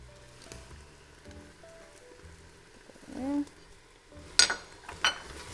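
Garlic, dried lime, pepper and turmeric being stirred into cooking onions in a pan, soft sizzle with a few scrapes and clinks of a utensil, close, with a voice talking at times.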